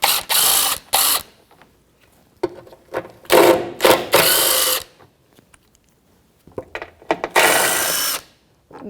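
A ratchet with a 10mm socket works on the mounting bolts of a Jeep Patriot, giving short bursts of rapid clicking, loud and close, separated by pauses.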